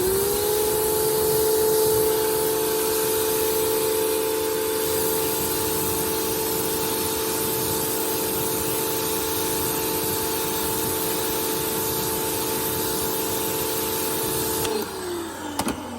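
A pressure washer with a 40-degree nozzle sprays water to rinse car wheels with carbon ceramic brakes, producing a loud, steady hiss over a constant motor drone that cuts off near the end.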